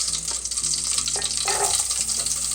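Onions drop into butter and oil heated over medium heat in a pan, hissing and crackling in a steady close sizzle with light stirring and clatter throughout.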